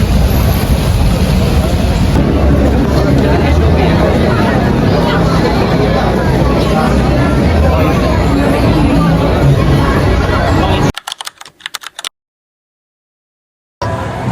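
Busy crowd hubbub at a stadium entrance before an AFC Asian Futsal Cup match, a dense steady wash of many voices and movement that cuts out abruptly near the end.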